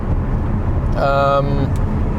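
Steady broadband road and cabin rumble from a VW ID.7 Tourer cruising slowly in heavy highway traffic, with a brief voice speaking partway through.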